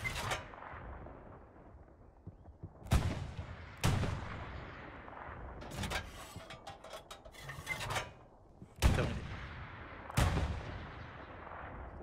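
Cannons fire in the World War II shooter Hell Let Loose, with five or six heavy booms spaced a second or more apart. Each blast rolls off into a long rumble over steady battlefield background noise.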